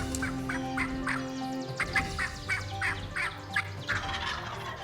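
Wild turkeys gobble in a series of repeated rattling calls, about ten bursts in steady succession at middle distance, over a low outdoor background.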